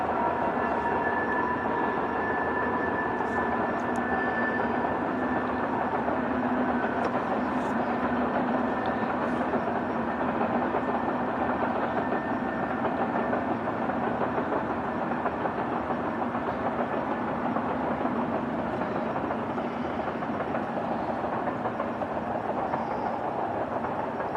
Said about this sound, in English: Love hearing the trains going past.